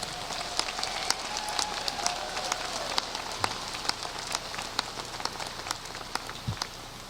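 A graduation crowd gives a steady, dense round of applause for a school band and choir, the patter of many hands sustained and even throughout, somewhat distant, with sharper individual claps popping out.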